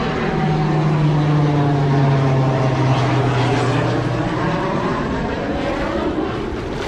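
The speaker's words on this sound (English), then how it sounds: "That looked like an airplane out of World War II." A World War II-style propeller airplane passes overhead, its loud, steady engine drone holding for several seconds with a low tone that slowly falls in pitch as it goes by, with no voices over it.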